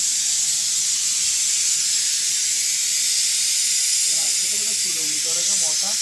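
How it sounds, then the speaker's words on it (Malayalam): A pressure cooker whistles during outdoor cooking in a forest, giving one loud, steady steam hiss that runs the whole time, with voices talking over it toward the end. "കുക്കർ വിസിലടിക്കുന്നുണ്ട്"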